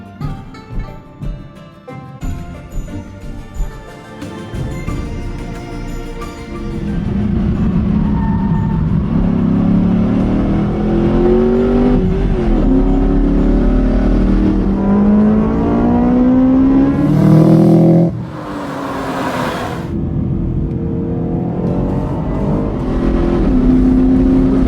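A Subaru STI 555 edition starts up and idles roughly, then accelerates hard through the gears. The engine note rises loudly in pitch, drops briefly at each shift, and stays close and dominant.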